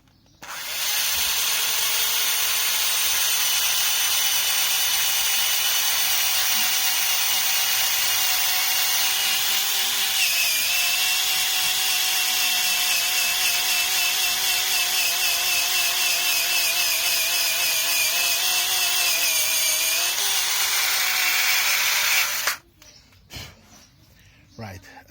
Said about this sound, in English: you just insert the drill into the position where the cut should be